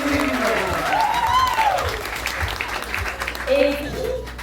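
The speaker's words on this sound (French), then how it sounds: "On l'applaudit bien fort." Audience applause at a festival parade show greets a performer dressed as the moon, a steady wash of clapping from a crowd with voices, whistles and cheering mixed in throughout.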